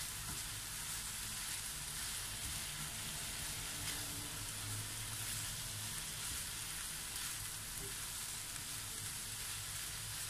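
Bitter gourd, chicken and red chili stir-frying in a pan give off a steady, dense sizzle with faint stirring scrapes, close and continuous with no talk.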